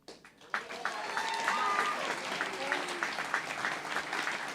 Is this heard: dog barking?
no